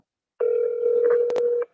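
An outgoing phone call to a seller rings through as a single steady electronic tone that holds for a little over a second, then cuts off. The tone is clear and alone, with no voices.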